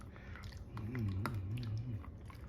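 Basenji dogs chewing on treats, soft wet chewing and biting sounds close by, with a person's voice talking over much of the clip.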